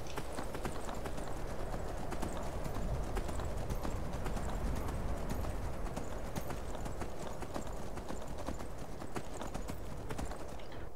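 A horse's hooves clip-clop in Skyrim at a steady trotting rhythm, close and continuous, over a low ambient outdoor wilderness bed with no talk.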